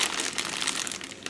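Paper insert crinkles while a cross-stitch kit is unboxed, a steady close rustle lasting about a second, with no talk over it.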